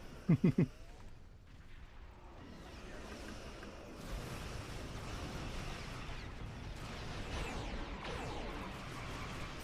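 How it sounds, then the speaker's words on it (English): Heavy starship cannons fire in Star Trek Online, opening with a rapid burst of three or four sharp shots, then giving way to a long, rumbling wash of distant blasts and whooshes at low volume. "There's something to be said for the sounds of heavy cannons going off"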